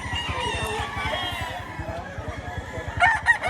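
Chickens and roosters at a busy poultry market in Batangas cluck and crow, some near and some farther off, with a rooster's crow rising near the end and faint voices in the background.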